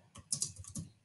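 A computer keyboard is typed on in a quick burst of several close keystrokes, crisp clicks in uneven rhythm with nothing else around them.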